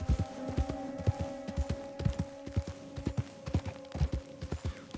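Horse hooves clopping along a trail in Red Dead Redemption 2, a steady galloping rhythm of close, thudding beats over a low sustained hum.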